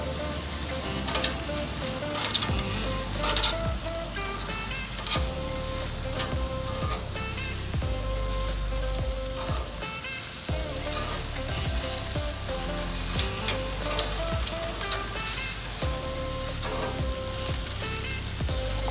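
Chicken tenderloins sizzle steadily in a hot pan for buffalo chicken wraps just after being flipped, a loud, dense, continuous frying crackle close by with occasional clinks, no talking.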